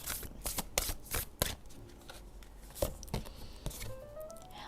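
A deck of Whisper of Love Oracle cards is shuffled close by, with repeated quick riffling bursts and soft card slaps, in a quiet room without speech.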